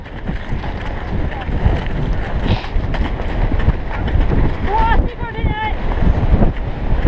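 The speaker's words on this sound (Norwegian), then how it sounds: "Men her oppe så målte det faktisk over 21 meter i sekunde." Strong mountain wind on Snøhetta, gusting above 21 metres per second, roars and buffets steadily against the microphone throughout, loud and continuous, with a brief whistling tone rising through the middle.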